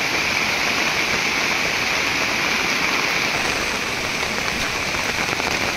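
Heavy rain pours steadily over a jungle with small streams filling nearby, a dense, continuous hiss of drops on foliage and ground that stays loud and even throughout, with no voices.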